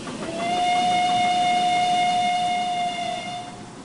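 Steam train in a train simulator video game, its steam whistle sounding one long steady shrill blast lasting several seconds over a constant rumbling background, no talking.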